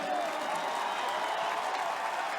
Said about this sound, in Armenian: բուռն ծափերով